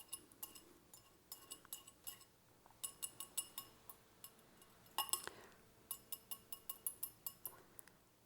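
Rapid clinking of a utensil against a bowl as egg and vanilla extract are whisked together for keto chocolate chip cookies, steady rhythmic taps close up with a few louder knocks midway.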